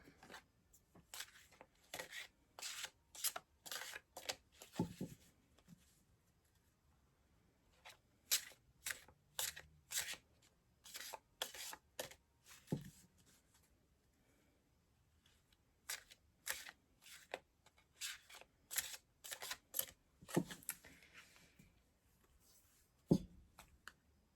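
Tarot cards shuffled by hand in repeated bursts of crisp, riffling slaps and flicks, close and fairly quiet, with short pauses between rounds.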